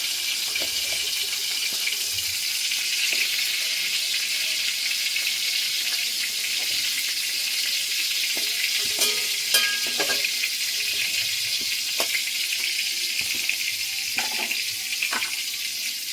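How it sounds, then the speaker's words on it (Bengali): Cauliflower florets fry in hot oil in a pan for a paneer and cauliflower vegetarian dish, giving a steady, close sizzle with a few light utensil clinks and no voices. "দেখুন ফুলকপিটা ভাজা হয়ে গেছে, তুলে নিচ্ছি।"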